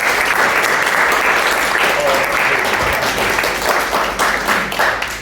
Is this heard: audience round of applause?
yes